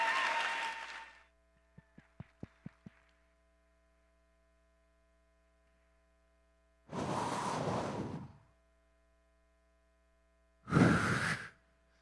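Two bursts of audience applause welcome speaker Adam J. Kurtz, each a few seconds of dense clapping, separated by near silence and a steady low electrical hum, with a few faint taps at the start.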